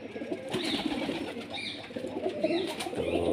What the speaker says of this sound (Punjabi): 11 ਕਬੂਤਰ ਮੋਹਰਾਂ ਲੱਗ ਗਈਆਂ ਨੇ।